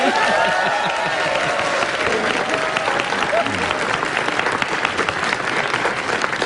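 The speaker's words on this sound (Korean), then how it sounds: "김은지 기자에게 박수 부탁드립니다" A large studio audience at an anniversary live broadcast of a morning news show applauds a reporter, steady dense clapping that stays loud throughout, with faint voices underneath.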